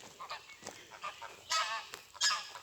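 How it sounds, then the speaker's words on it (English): Geese honking in a country park woodland with recent tree planting, several loud bursts of calls in a row, close by and with no talking. "we'll just follow these geese."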